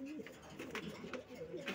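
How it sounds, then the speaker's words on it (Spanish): A male pigeon coos in a few soft, throaty rolling calls, close by, with faint background noise and no clear speech. "Este palomo lo recogí en casa de Marcel"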